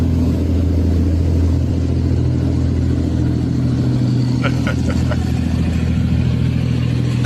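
Heavy engines rumble loudly and steadily as new Chinese tanks, fitted with cage armour, drive through city streets, with a deep droning tone throughout and a few brief clanks partway through.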